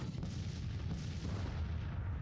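Distant artillery booms rumble through a dense low battle din in the Civil War strategy game Grand Tactician, a continuous muffled roar with faint thuds and no voices.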